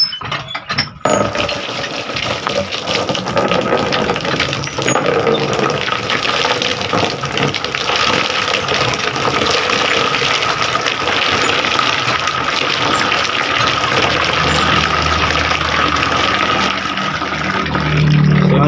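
A liquid pump runs steadily with water flowing through it while an Epson printer purge unit is cleaned, giving a loud, continuous gushing wash with a mechanical hum beneath that lasts throughout.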